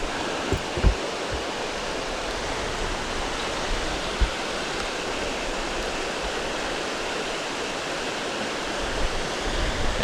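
River rapids rushing below autumn step falls that feed the Bad River, a dense, steady roar of water heard up close, broken by a few faint knocks, with no voices.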